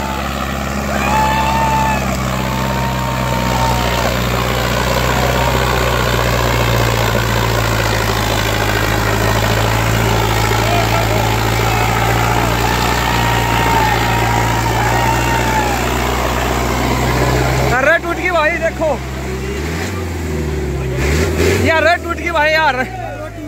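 A tractor engine runs steadily at a rural harrow competition, a loud low idling drone held throughout, with voices and crowd noise over it and a brief disturbance near the end.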